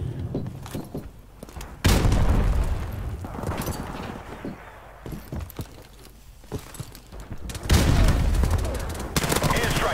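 A Mac-10 submachine gun fires rapid bursts in Call of Duty 4 team deathmatch on the Crash map. Loud, dense volleys alternate with quieter gaps of distant shots and movement, and the heaviest fire comes at the start and again toward the end.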